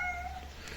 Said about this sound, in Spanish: Mira mi gato.